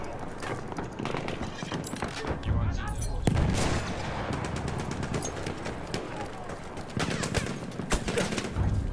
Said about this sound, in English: Who's shooting, bro?